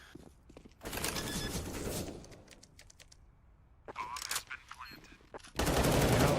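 Bursts of Galil rifle fire in the tactical shooter CS:GO, rapid crackling volleys in several separate bursts with quieter gaps between, the last one loud and sustained.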